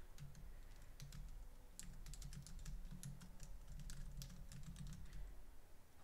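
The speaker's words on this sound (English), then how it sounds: "now when I click on publish and go to the page, I'm going to type in my name here." Quiet typing on a computer keyboard, entering a name into a web page form: a run of light, quick key clicks in uneven bursts over soft background hum.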